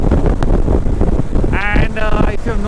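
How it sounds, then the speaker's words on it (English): Strong monsoon crosswinds buffet a rider on a KTM 390 motorcycle on an open road, a loud continuous roaring rumble, with a voice briefly audible through the wind. "It's very windy, a lot of crosswinds."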